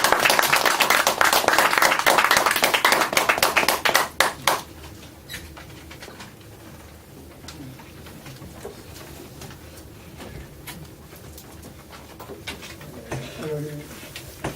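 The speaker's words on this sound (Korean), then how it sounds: "많은 박수로 맞이해 주시기 바랍니다." Brief burst of audience clapping at a lecture on Korean reunification, loud for about four seconds and then dying away into a quiet room with faint shuffling and distant murmurs.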